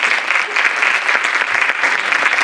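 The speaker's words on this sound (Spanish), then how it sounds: "Bueno, podéis aplaudir," An audience at a teachers' conference claps after a talk, a loud, close, continuous wash of many hands beating together with no pauses or voices over it.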